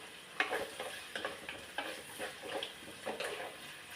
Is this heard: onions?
yes